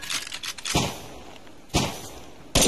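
Gunfire from a weapon in the survival video game Subsistence: three sharp, loud shots spaced about a second apart, each a sudden crack with a short decay, alone without speech.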